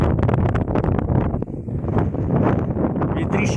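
Strong wind blows through a snowstorm in deep drifts. Heavy, rough gusts buffet the microphone continuously, loud and close, with a brief dip in the middle.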